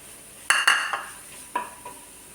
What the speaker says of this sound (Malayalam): ബീൻസ് ഇട്ട് വഴറ്റിയതിന് ശേഷം ക്യാരറ്റ് അരിഞ്ഞു വെച്ച ക്യാരറ്റ് ഇട്ട് ഇളക്കുക